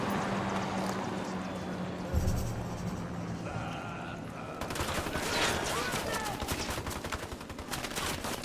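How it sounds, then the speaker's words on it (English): Bursts of gunfire in the tactical shooter Ghost Recon Wildlands, rapid repeated shots and fusillades against a busy game soundscape, with a single heavy shot early and dense firing in the second half. "Taking a shot."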